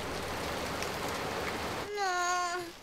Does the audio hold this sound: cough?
no